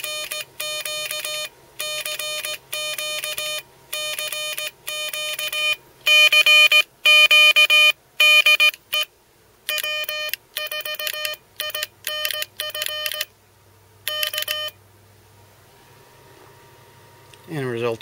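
Morse code tones sent by a Picaxe 20X2 CW keyer board: steady beeps in rhythmic dot-and-dash groups with short gaps, clear and fairly loud, ending with a low rumble.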